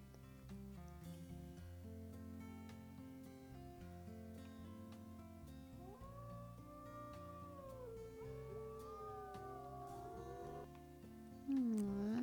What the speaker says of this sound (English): Let's get a picture of them howling together.